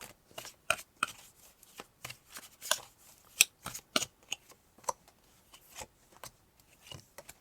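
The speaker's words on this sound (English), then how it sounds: "I'm going to pull some more cards" Tarot cards shuffled and pulled from the deck during a reading, a quiet series of sharp papery snaps and flicks in an irregular rhythm, close up with no talk.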